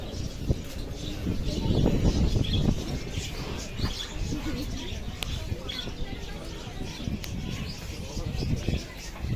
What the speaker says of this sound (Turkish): Var güvercinlerimiz.